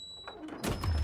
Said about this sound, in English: Kick the door open because no one's gonna hear that.